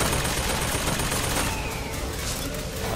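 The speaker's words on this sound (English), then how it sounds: "I'm surprised the turret can hit me, to be honest." A turret in Bioshock Infinite fires continuous rapid gunfire at the player, loud and dense throughout, with faint voice traces underneath.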